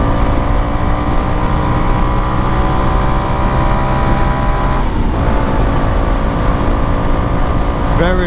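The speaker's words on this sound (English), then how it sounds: "Very windy." Constant wind roar while riding a Honda CRF 300L dual-sport motorcycle fitted with an airbox mod, ECU tune and aftermarket exhaust, the steady engine drone running loud and close beneath the buffeting air.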